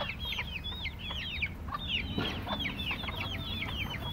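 Homestead chickens clucking and calling close by, a busy overlapping series of short rising clucks and squawks from several birds, steady over a low background rumble with no talk.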